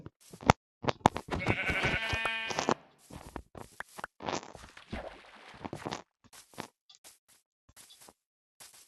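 A sheep bleats clearly in a game setting, a drawn-out wavering cry among scattered short clicks and footstep-like taps.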